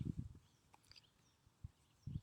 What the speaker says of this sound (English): The tips of its wings as it goes up are actually slapping together.